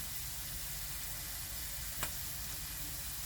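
Onions and spices frying in a pot for one-pot chicken masala rice, a steady close sizzle with a single brief clink partway through.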